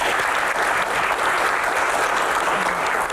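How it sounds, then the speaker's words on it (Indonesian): An audience applauding a doctor at a Q&A panel session, steady dense clapping from a crowd that holds evenly throughout. "tepuk tangan untuk dokter"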